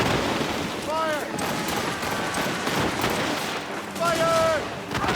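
Naval cannon fire booms through a sea battle in Assassin's Creed Rogue, dense broadside blasts rumbling continuously, with shouted voices breaking through twice.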